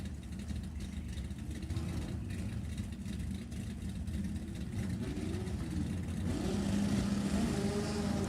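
A 1985 Chevrolet Camaro at an NHRA hot rod drag strip, its engine a steady loud roar that builds and rises in pitch toward the end, with crowd and track noise around it.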